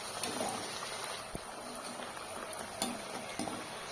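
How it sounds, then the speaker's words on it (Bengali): Papdi chaat pieces fry in hot white oil over medium heat, giving a dense, steady bubbling sizzle with a few small pops, heard close and alone. "আঁচটা মিডিয়াম আঁচে রেখে পাপড়ি চাটগুলো ভেজে নেব।"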